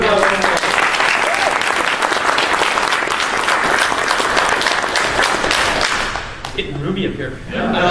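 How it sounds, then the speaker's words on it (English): A convention panel audience at GenCon gives a loud, sustained round of applause that fills the room, tapering off near the end with some crowd noise. "Round of applause."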